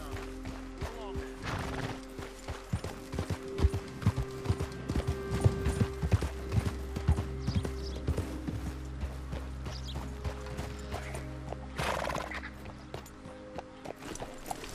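Horse hooves clip-clop in Red Dead Redemption 2, an irregular run of hollow knocks on ground mixed with creaking tack and small game effects over a low ambient hum, fairly near and moderate in level.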